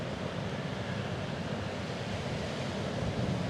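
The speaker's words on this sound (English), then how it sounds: "you might even hear the ocean and the wind as we are in a public place" Ocean surf and wind on a Kauai beach make a dense, steady broadband wash, with gusts buffeting the microphone throughout.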